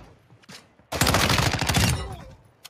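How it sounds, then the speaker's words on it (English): A loud, close burst of rapid gunfire from Call of Duty DMZ lasts about a second, with quieter game sounds before and after. "hear another shot"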